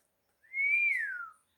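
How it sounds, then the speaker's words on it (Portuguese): A single soft whistle rises then glides down in pitch, a smooth, clean tone lasting about a second against silence. "dá um assobio bem suave e aquele pensamento logo chega voando"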